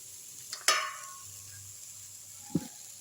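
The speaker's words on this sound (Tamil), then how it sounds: "அப்படியே லைட்டாக வதக்கி விட்ருவோம் இந்த வெங்காயம்" Chopped onions sautéing lightly in a pan while making egg kothu parotta from wheat chapati, two sharp sizzling bursts over a quiet low background sizzle.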